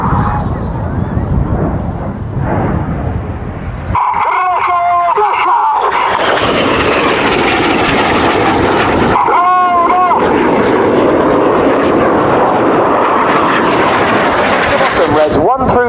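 Red Arrows display jets at the Royal International Air Tattoo airshow roar past low at high speed, a loud sustained jet noise with sweeping pitch shifts as aircraft pass, over a spoken commentary.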